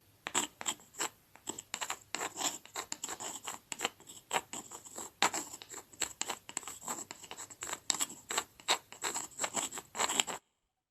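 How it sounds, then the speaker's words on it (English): Writing on slate: a quiet run of short scratchy strokes, irregular scrapes and taps coming in quick bursts close up, with brief pauses between marks. "This is the sound of writing on slate."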